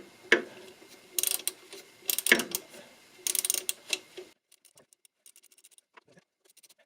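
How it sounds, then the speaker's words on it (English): Ratcheting wrench clicks on the alternator pulleys of a 2007 Peugeot Partner 1.6 HDi, coming in several short close bursts of rapid ticking with pauses between, then fainter scattered clicks. "there should be now enough space for the wrench"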